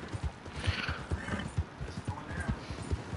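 Horse in the video game Red Dead Redemption 2, steady rhythmic hoof clip-clop at a trot with a brief whinny, moderately close over faint background ambience.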